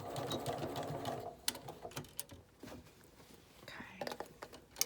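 A sewing machine stitches a Y seam, also called an inset seam, in a LeMoyne Star quilt block. It runs in a steady burst at the start, then stops and gives way to quiet handling clicks and soft rustles.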